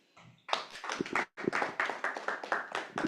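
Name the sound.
applause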